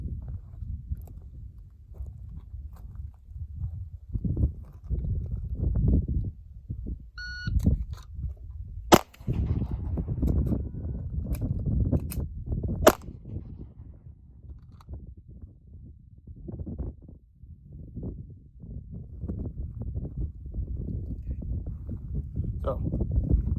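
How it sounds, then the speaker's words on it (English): Handgun shots fired at a target during a timed shooting drill, a string of sharp cracks spaced a second or two apart, with a timer beep near the start, over steady outdoor background noise. "You can see the shots are being placed"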